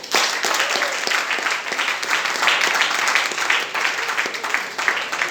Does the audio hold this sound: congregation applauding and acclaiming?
yes